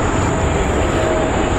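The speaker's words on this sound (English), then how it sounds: "God, the planes are so loud." Loud, steady engine roar from airplanes flying overhead, a continuous broadband drone with a high whine, filling the scene without a break.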